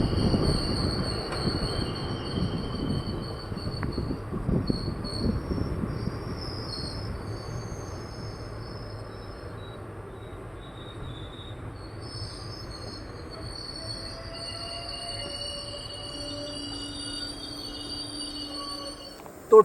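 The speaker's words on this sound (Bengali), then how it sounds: "তো ট্রেন এখন এসে পৌঁছালো" Howrah Katihar Express pulling into Ghagraghat Road station at night, with steady rolling rumble and wheel noise, faint high squeals, and insects chirping in the background, continuous throughout.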